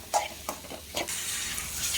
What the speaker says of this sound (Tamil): தக்காளியோடு சேர்த்து வதக்கிக்கணும்